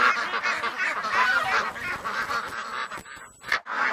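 Wild ducks call just outside a pen, a dense, overlapping run of loud honking quacks that continues nearly without pause, with a few sharper calls near the end.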